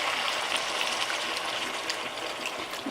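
Beef broth pours into a stew pot in a continuous liquid gush, a steady, close, splashing flow that lasts the whole moment without interruption or voices.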